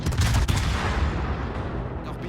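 Battleship gunfire in World of Warships from a Soviet Soyuz, heard as a loud dense barrage with heavy low booms and overlapping blasts that roll on steadily for a couple of seconds.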